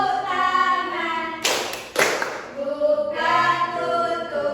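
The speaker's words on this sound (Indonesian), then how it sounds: "bertepuk tangan." Two sharp hand claps land close together in a classroom, loud and crisp, set amid a group of voices singing an action song before and after.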